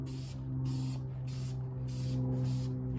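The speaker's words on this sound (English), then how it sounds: "Don't forget to spray inside." Short bursts of spray from an aerosol can laying primer onto a salvage yard car part outdoors in wind, several hissing pulses in a row with brief gaps, fairly quiet, no talking.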